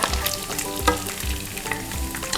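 Bacon fried rice with dried chili sizzles and spatters loudly in a pan as moisture from the bacon pops, with a few heavier stirring thumps of a spatula at regular intervals and no talk.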